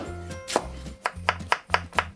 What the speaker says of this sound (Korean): 자, 이제 무를 썰어서 준비를 해 줍니다.